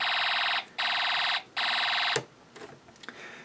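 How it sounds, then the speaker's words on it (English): An ELENCO Snap Circuits sound module gives off a laser gun sound as three loud, harsh electronic bursts with short gaps between them, followed by faint clicks and handling noise. "That's a laser gun sound."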